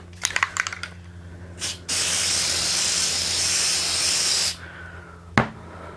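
Aerosol spray coating applied to a metal piece before CO2 laser engraving: a few light clicks, then a steady, close hiss lasting a couple of seconds, followed by a sharp tap.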